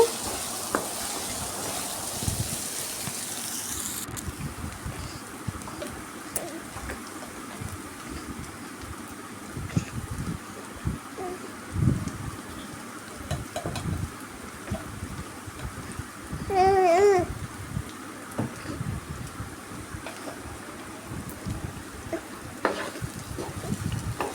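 Onion pieces fry in a pan with a soft, steady crackling sizzle, joined by occasional stirring scrapes and a brief louder clatter.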